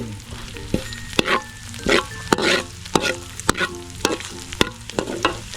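Dried anchovies (dilis) crisping in a little oil, a sizzling pan punctuated by sharp scraping strokes of a utensil roughly every half second, with a low hum underneath.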